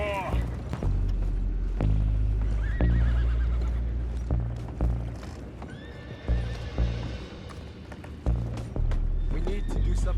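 Horses from the video game Red Dead Redemption 2 neigh and whinny while hooves clip-clop, with low rumbling thuds and intermittent voices throughout.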